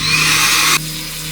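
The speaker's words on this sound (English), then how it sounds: "I also have an electric air blower to help out with the drying." An electric air blower used to dry a fly fishing reel blasts with a loud, steady rush of air, then cuts off abruptly, leaving a quieter hum.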